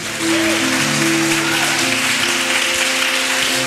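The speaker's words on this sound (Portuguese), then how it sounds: "Aleluia, aplauda Jesus." A church congregation claps in praise during a sermon, a loud continuous wash of applause under sustained held tones, steady throughout.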